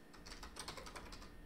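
A short burst of rapid keystrokes on a computer keyboard while a command is typed, close and soft, with no voices.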